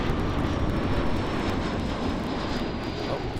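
A KLM airliner passes at Amsterdam airport with a close, loud, steady jet roar and a faint high whine throughout.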